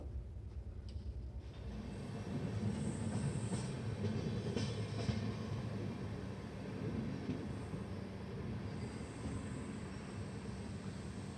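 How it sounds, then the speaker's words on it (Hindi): Kashi Vishwanath Express pulling into Lohta station before dawn, a steady low rumble of rolling coaches and rail noise with faint high squeals, continuous and fairly close throughout. "अभी सुबह के 3:55 हो चुके हैं और हमारी ट्रेन पहुंची है लोहता"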